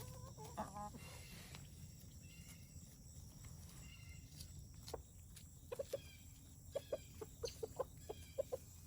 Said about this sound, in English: That's our other rooster.